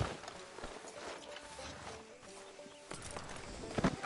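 Hooves clip-clop from a horse being ridden to a stop outside a sheriff's office in a western video game, irregular thuds and taps amid tonal game sounds and music, with a closer burst of hoofbeats near the end.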